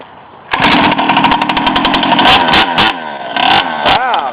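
A tiny mini bike engine runs loud and raspy during a ride, starting abruptly and buzzing close by with revving pitch changes and sharp intermittent clatters throughout.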